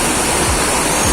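Water pours heavily onto a gas stove ringed for splash protection, a dense, loud, steady rush of splashing with no break.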